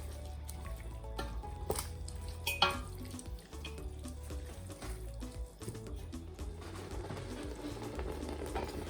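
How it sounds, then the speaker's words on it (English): Pondu with onions and aubergines being stirred in a pot: soft wet squishing and scraping at low level, with a few sharper clinks near the middle and gentle sizzling continuing beneath. "I'm just going to give this a stir"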